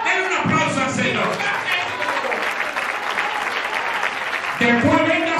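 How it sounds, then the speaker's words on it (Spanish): A church congregation claps and cheers for the Lord during a bishop's sermon, a dense, loud, steady wash of applause filling the whole stretch, with voices calling out over it. "Denle un aplauso al Señor"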